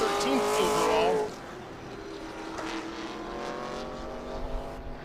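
A bright yellow Corvette race car at Road Atlanta, a loud rising engine whine at first that fades into a softer, more distant drone as the car moves off down the track.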